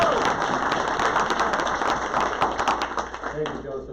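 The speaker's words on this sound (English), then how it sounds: "let's give her a round of applause." Audience applause at a Rotary club weekly meeting, steady dense clapping from a crowd filling the room for about four seconds and tapering slightly at the end.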